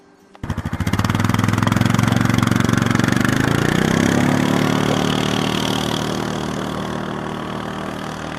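A small off-road vehicle engine starts up and runs loudly and steadily at close range, its buzzing drone rising slightly before settling.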